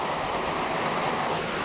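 Steady rain falls on a house roof that leaks in many places, a dense, even hiss of drops holding constant and fairly loud for the whole stretch with no voices over it.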